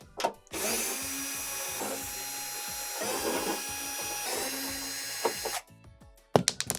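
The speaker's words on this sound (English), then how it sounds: "I'm going to go ahead and remove the 1/4 inch screws around the perimeter of the housing" A power drill spins out quarter-inch screws from a Whirlpool Swash heater unit housing, several short whirring bursts with brief pauses, then clicks and handling noises.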